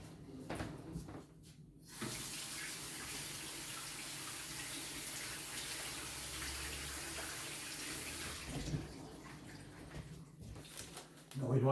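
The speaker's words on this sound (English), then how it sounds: "You always wash your hands." A kitchen tap runs in a steady, close rush for several seconds while hands are washed. It starts and stops with a few knocks, and brief speech comes at the edges.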